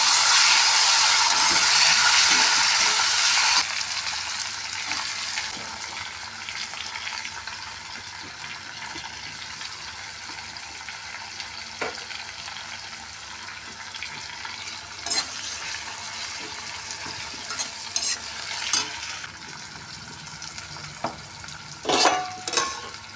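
Tomatoes go into a pan of fried onions for ladies finger curry, a steady close sizzle that fades to lighter frying with intermittent stirring clicks and scrapes.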